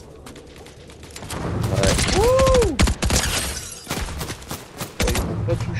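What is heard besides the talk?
gunfire in Fortnite video game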